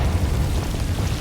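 A Confringo blasting spell detonates in Hogwarts Legacy, a dense, rumbling explosion with heavy low-end roar that fills the short moment steadily and loudly, no voices present.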